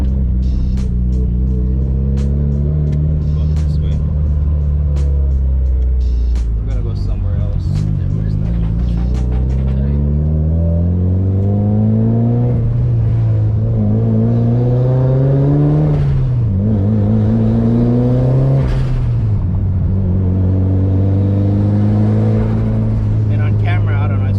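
A Mitsubishi EVO accelerates hard from inside the cabin, its engine note climbing through gears in loud rising sweeps with brief dips at shifts, while people talk over the drone.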